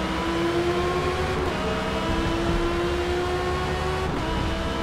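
A race car at full throttle in the Forza racing game on the Hakone circuit, a steady, sustained engine whine rising slightly in pitch, with a brief gear-change dip before it climbs again, with no voices.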